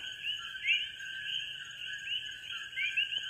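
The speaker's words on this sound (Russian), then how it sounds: "Так квакают гавайские лягушки." Hawaiian frogs call in a steady, high-pitched chorus of overlapping chirps, with a few louder calls standing out. The chorus is continuous, moderately distant and rather faint, with no voices.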